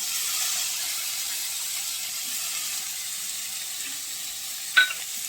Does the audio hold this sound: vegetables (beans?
yes